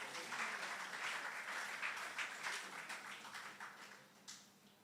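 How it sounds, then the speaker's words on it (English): An audience at an athletics association award ceremony applauds a talented young performer, a soft, distant, continuous patter of clapping that fades slightly toward the end. "Again, a round of applause for the talented young lady."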